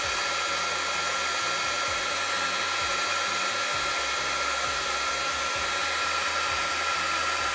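A heat gun blows and heats embossing on a craft snowflake box, giving a continuous whirring, hair-dryer-like rush of air that stays close and even throughout.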